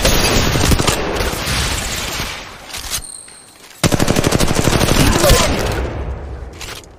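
Loud, close automatic gunfire from the mobile shooter Apex Legends Mobile rattles in rapid sustained bursts, dropping away for a brief lull before another long burst.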